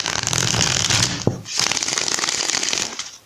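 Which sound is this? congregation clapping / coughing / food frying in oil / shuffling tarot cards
shuffling tarot cards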